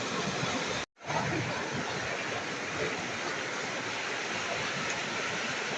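Kral waterfall in a mountain range, its water pouring down a steep slope, gives a continuous loud broadband rush. The roar cuts out for a brief moment near the start, then resumes without any voices.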